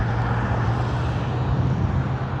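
A jet aircraft, white with blue wings, flying high overhead outdoors, heard as a steady, continuous broadband roar that holds at an even level throughout with no voices.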